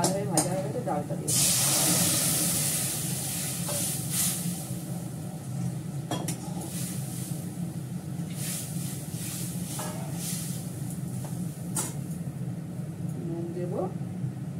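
Dal poured into hot tempering oil, a sharp burst of hissing sizzle at the start that settles into a steady crackling fry, with occasional clatters and a voice speaking.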